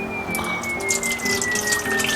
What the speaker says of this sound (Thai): เราก็พร้อมกินแล้วเทน้ำซุปลงไป